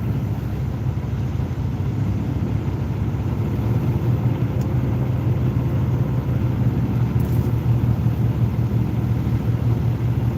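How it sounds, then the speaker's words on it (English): A vehicle engine being revved to build up air pressure, a steady loud low rumble with mild swells in intensity throughout, no voices. "I'm gonna rev it up a little bit."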